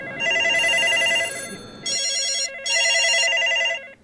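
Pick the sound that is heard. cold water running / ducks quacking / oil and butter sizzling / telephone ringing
telephone ringing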